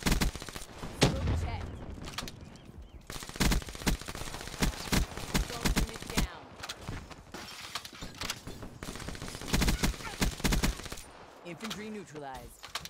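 Bursts of automatic gunfire in the video game Call of Duty Black Ops 3, sharp repeated shots spread through the clip with short gaps, mixed with game effects and a voice talking.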